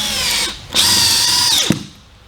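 A Dewalt 20V cordless drill drives a screw in one short burst of about a second: the motor whines up, runs steadily, then stops with a clunk, loud and close with no talking.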